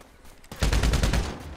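A rapid machine gun burst rings out in a video game, starting abruptly after a quiet moment and hammering on as a dense, loud, evenly paced run of shots that slowly tails off.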